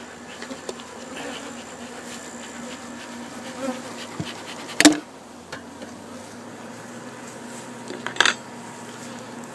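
Honeybees buzz steadily at hives during commercial pollination in Florida, a dense sustained drone with a few louder passes and faint clinks close by, with no speech.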